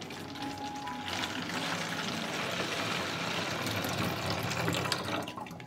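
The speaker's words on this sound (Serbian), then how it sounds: "sipat ću rastvor u flašu od 5 litara" Liquid plant-fertilizer solution is poured into a 5 litre bottle, giving a steady, close gurgling rush of liquid that continues for several seconds with no talk.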